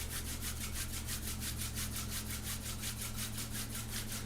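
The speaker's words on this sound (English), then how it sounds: "Give your hands a little bit of a rub together again." Hands rubbing together in a rhythmic series of quick, soft swishing strokes, steady and close, with a faint low hum underneath and no talking.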